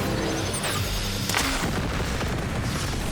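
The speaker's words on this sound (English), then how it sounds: "Now he's gonna do the missile thing." Missile-attack explosions from the video game Cyberpunk 2077 rumble as a dense, continuous barrage of booms and blasts, loud and close throughout.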